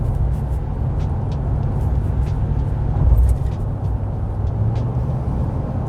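A Ram 1500 with the 5.7L HEMI V8 pulls a trailer up a hill, its engine giving a steady, loud low drone under constant road and wind noise, with a brief swell near the middle.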